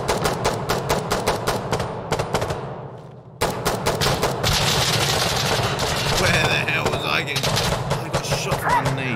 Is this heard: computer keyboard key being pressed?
no